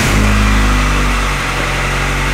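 A Honda Civic fitted with a new exhaust revs hard up close, a loud, sustained engine drone that dips slightly midway.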